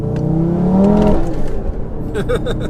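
A 740bhp tuned Audi RS3 with traction control off revs hard, its engine rising to a loud rasping pitch before easing off, heard close from the cabin with brief voices near the end.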